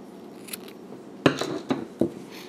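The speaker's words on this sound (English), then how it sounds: "I'm going to cut my yarn." Scissors snip through bulky yarn while finishing a crocheted beanie: three or four sharp, close metallic clicks in quick succession after a soft rustle, with no talking.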